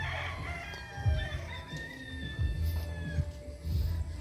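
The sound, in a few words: chickens and roosters on a farm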